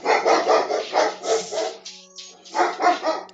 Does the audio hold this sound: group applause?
no